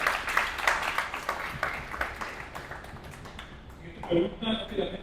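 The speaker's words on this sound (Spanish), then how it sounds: "Un aplauso, por favor." Audience at a church question forum breaks into applause, a steady patter of many hands clapping at moderate volume, then fading as a voice begins speaking.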